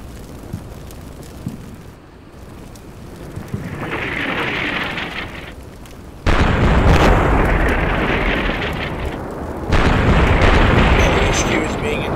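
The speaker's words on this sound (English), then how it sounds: "The HQ is being engaged by the howitzers." Howitzer artillery shells bursting in the Combat Mission Shock Force video game, heavy rumbling blasts that swell loudly at about six seconds and again near ten seconds, with a voice talking over the barrage.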